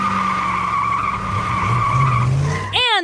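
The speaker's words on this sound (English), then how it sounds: "this car shot out of the parking spot heading right for me" Tires squeal loudly and steadily as a car shoots out of a parking spot, ending in a sharp screeching burst right at the close.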